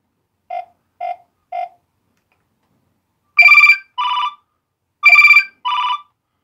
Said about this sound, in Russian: Здесь у нас собраны все рингтоны, которые хранятся в телефоне.